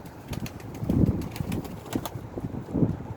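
A young game pigeon gives soft low coos in a few close bursts, with wing flutters and faint background noise between them.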